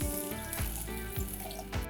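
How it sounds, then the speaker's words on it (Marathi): A cup of water poured over chopped carrots, beans and peas for ragi vegetable soup, a brief continuous close gush and splash. "त्यात घालूया एक कप पाणी"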